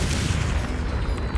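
A Confringo fire spell from Hogwarts Legacy bursts in a dense, booming blast with a rumbling low-end roll that fills the moment and stays loud throughout.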